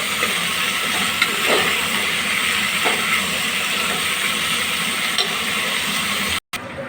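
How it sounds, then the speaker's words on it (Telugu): Broad beans fry in hot oil in a pan, giving a steady, close hiss and sizzle that holds at an even level, broken by one brief dropout near the end. "ఇప్పుడు చిక్కుడుకాయ నూనెలో బాగా ఉడికించుకోండి"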